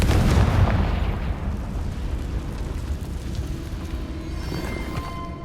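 Confringo fire-blast spell cast in the Hogwarts Legacy video game, a loud explosive burst right at the start that rumbles and slowly fades over several seconds.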